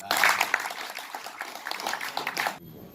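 Applause from an audience at a public discussion forum on forming a new regency, a dense burst of clapping that stops abruptly near the end.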